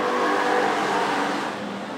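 Hobby stock race cars at Antioch Speedway roaring off turns three and four, a dense, loud wash of engine noise heard from the stands that slowly fades as the pack pulls away.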